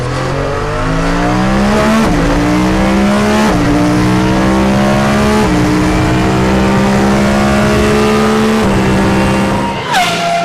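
The loudest car engine in the world revs hard and continuously, a very loud, close roar with rising pitch sweeps as it shifts through gears, with no talking over it.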